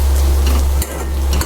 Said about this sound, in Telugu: Egg rice mix చేసేస్తున్నాము.